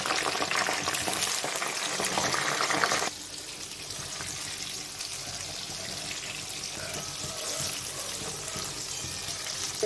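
Brinjal pieces fry in oil for a brinjal pickle, a loud bright sizzle that suddenly drops to a quieter, steady bubbling crackle partway through, with no one talking.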